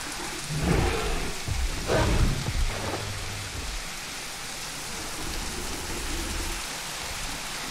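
Heavy rain pours steadily in the video game Jurassic World Evolution, a loud continuous hiss with a few deeper rumbles early on, heard alone without talk.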